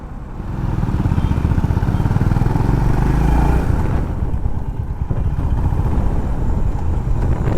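Motorcycle engines droning steadily on a highway, a loud continuous rumble from nearby bikes with slight rises and dips as they ride along, and no voices.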